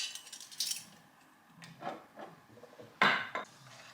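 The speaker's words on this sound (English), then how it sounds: "And give it a good stir." A spoon stirs balsamic raspberry dressing in a pot, making scattered metallic scrapes and clinks against the sides, with one sharper knock near the end, close and fairly quiet with no voices.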